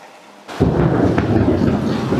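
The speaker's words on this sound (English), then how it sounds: "There's lightning and thunder right above us." Thunder crashes loudly overhead during a massive storm on a road trip in Japan, a sudden close boom that rolls on and rumbles with rain in the background.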